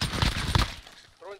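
Nail gun firing in Call of Duty Warzone, a rapid burst of sharp repeated shots up front that drops away, followed by a brief tonal game sound near the end.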